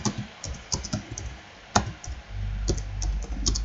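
Keys tapped on a computer keyboard in a quiet room, a sparse run of light clicks with one sharper strike, over a low background rumble.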